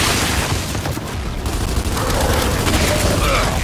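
Dense, loud gunfire rattles continuously in Gears of War 5, a sustained fusillade of shots and booms filling the whole stretch with little pause.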